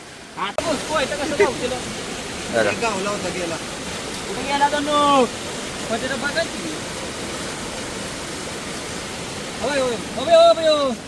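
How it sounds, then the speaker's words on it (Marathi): A steady roar of a village waterfall in monsoon rain fills the background while several people talk loudly over it. "असला धबधबा आहे प्रत्येक वर्षी असा धबधबा असतो जबरदस्त"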